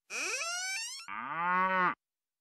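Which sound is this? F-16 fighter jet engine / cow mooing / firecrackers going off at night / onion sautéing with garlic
cow mooing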